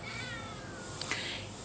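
A cat gives a faint, drawn-out meow with a wavering pitch, heard alone against a quiet background.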